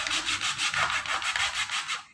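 A scraper rubs back and forth over cracked skin lathered with shampoo and a little water during a pedicure, giving close, rhythmic rasping strokes in quick succession with no talking.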